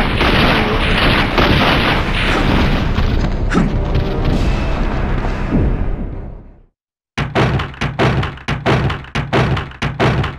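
Rocket launcher fire in the original Resident Evil 3 game, a heavy booming blast with a long rumbling tail, then a brief silence and a run of sharp rapid thuds.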